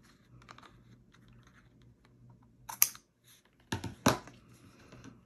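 Short snips of scissors trimming a white ribbon on a handmade embossed bookmark, a few close, crisp cuts in quick succession after a quiet stretch.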